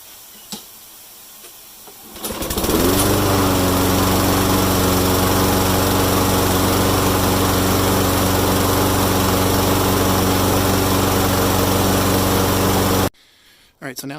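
A Toro lawn mower engine starts after a couple of seconds and runs loud and steady at a constant pitch, then cuts off abruptly near the end.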